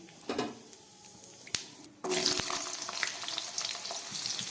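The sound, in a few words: frying bay leaf and cumin in hot oil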